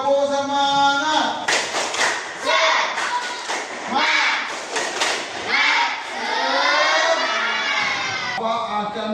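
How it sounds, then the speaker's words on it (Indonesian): A classroom of students performs a rhythmic spirit clap, bursts of claps and thuds falling in a patterned beat, mixed with children's shouting and chanting voices throughout. "Tepuk semangat dulu ya."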